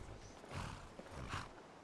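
A horse in a video game snorts and shifts nearby, with soft hoof clops and breathy huffs in two brief bursts, fairly quiet and without speech.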